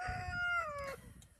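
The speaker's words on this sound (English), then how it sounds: "So you can hear the roosters crowing." A single rooster crows once, a clear rising and falling call at moderate distance, with faint low background noise.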